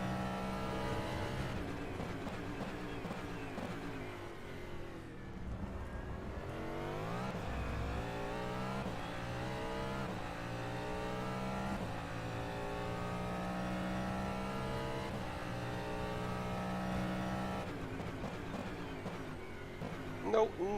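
Cadillac DPi race car engine in rFactor 2 at Sebring, a continuous droning roar with rising and falling revs as gears shift and the car accelerates, steady throughout with a brief dip before climbing pitch again; a voice talks over it.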